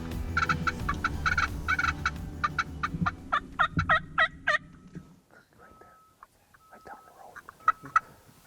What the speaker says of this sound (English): We barely got into the blind and these three toms came in